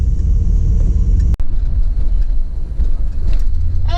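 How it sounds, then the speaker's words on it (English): A 1960 Chevy wagon drives along with a steady, loud low rumble of engine and road noise from inside the cabin, broken by a sharp click partway through. "So let's take this thing up for a little ride,"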